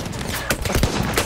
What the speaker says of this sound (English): when people shoot at you, it sounds super cool